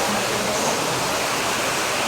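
A small river flows through a forest, giving a steady, unbroken rushing wash of water at moderate loudness, close by, with no talking.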